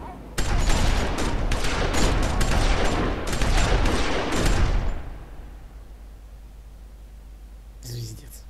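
A sustained volley of rapid gunfire from The Walking Dead video game crackles loud and dense for several seconds, then stops abruptly and leaves low rumbling ambience and a faint sound near the end.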